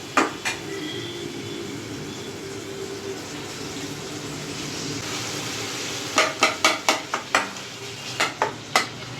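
Paneer is added to a sizzling mixture in a frying pan. A faint hiss runs under a few early scrapes, then a quick burst of spatula knocks and scrapes against the metal, close and clear, with no voices.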